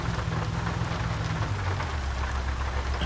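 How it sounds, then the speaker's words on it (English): Steady rain drumming in the American Truck Simulator driving game, a dense, continuous wash of drops with a low rumble underneath, close and unbroken with no voices. "I hate the rain."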